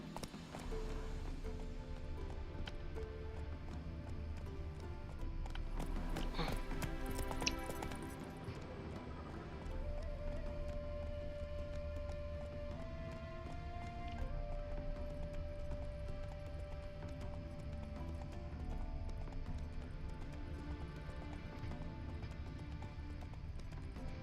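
Steady clip-clop of hooves from a horse running at a fast gait in The Witcher 3, continuous over layered music and ambient game sounds, with no pauses.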